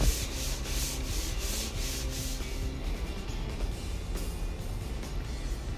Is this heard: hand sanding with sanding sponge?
yes